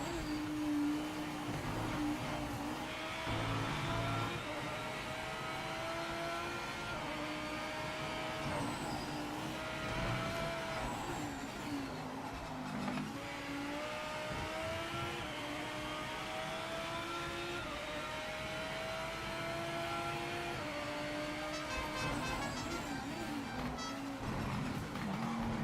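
March F1 race car in Project Motor Racing, a high-revving engine climbing in pitch through gears, dropping on braking and climbing again, loud and continuous with no voices.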